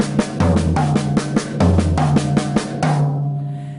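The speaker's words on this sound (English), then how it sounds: "If I invert that and I go up the set, it would of course be low to high." Eighth-note triplet strokes move up the drum kit from floor tom to mounted tom, a close, loud run of tom hits rising in pitch across several groups before the final tone rings out and fades.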